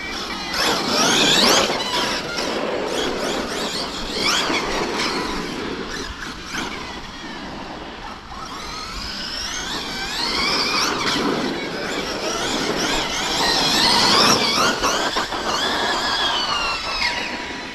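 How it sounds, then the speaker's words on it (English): A Hobao SSTE RC car drives continuously with a whining, fluctuating motor and a loose battery strap rubbing, loud and close for the whole stretch with no talk. "that battery strap again is sounding like it's rubbing"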